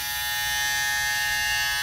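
Bevel electric foil shaver with swivel head running steadily on its own, a fairly quiet, constant high-pitched motor buzz with a low hum underneath, close and unchanging throughout.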